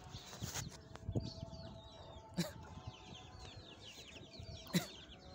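A broody hen with about nine newly hatched chicks gives soft low clucks, while the chicks' thin high peeps chirp repeatedly throughout, with occasional louder bumps and rustles nearby.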